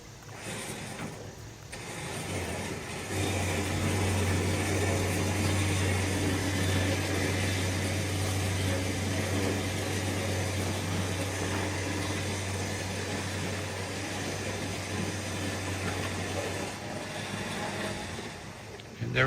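An OPENROAD 13,500 lb winch reels a manual-transmission vehicle, rolling in neutral, onto an equipment trailer, giving a steady low motor hum for several seconds under broad outdoor noise before the pull fades into continuous background rumble.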